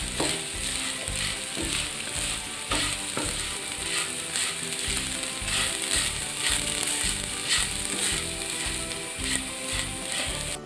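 Grated coconut roasting in a pan for Onam sadya koottukari, stirred steadily with a spoon, a continuous close sizzle overlaid by rhythmic scraping strokes against the pan, with no talking.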